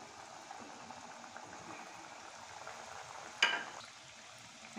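Shankarpali dough pieces deep-fry in oil over a low flame, giving a faint, steady bubbling fizz with a single sharp clatter partway through.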